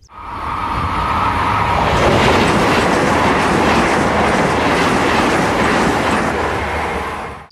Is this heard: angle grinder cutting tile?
no